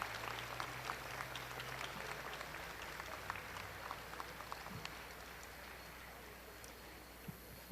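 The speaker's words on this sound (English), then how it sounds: "Let's make sure we give them a round of applause." An audience claps for the Catto family at an Octavius V. Catto memorial ceremony in Philadelphia. The applause is faint and distant, a soft, steady patter of many hands that gradually thins out.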